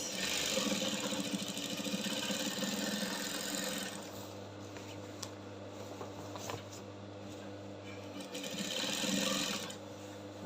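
A sewing machine stitches fabric for an embroidered bubu kaftan, its motor whirring in a steady close hum that runs fast, slows in the middle, then speeds up again, with no talking.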